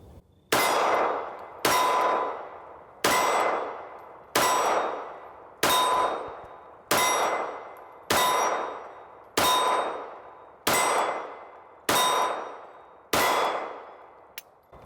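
Springfield Hellcat .380 pistol rounds striking steel targets: about eleven sharp ringing clangs at a steady, evenly spaced pace, each decaying into a metallic ring, with no talking.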